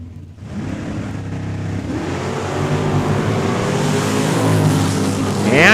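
Drag race cars, including a 1969 Chevelle, launch off the start line at Saskatchewan International Raceway, a loud engine roar building steadily over several seconds with no talk over it.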